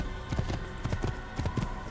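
A horse gallops in the video game Assassin's Creed, hooves striking in a quick, regular clip-clop rhythm over a faint background bed.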